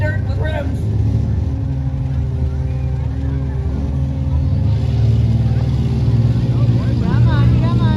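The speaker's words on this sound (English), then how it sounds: "So we have 3 moving vehicles" Demolition derby cars rev and grind in dirt with wheels down to bare rims, a loud continuous engine roar with rising and falling revs, heard under an announcer's and crowd's talk.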